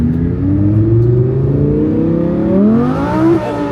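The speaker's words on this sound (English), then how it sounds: "we're about to rip it through the street and see what that feels like, and see what this tuned Audi R8 V10 Plus," Tuned Audi R8 V10 Plus accelerating hard on a street, the engine's loud close roar rising steadily in pitch through the revs, with a shift near the end before the note climbs again.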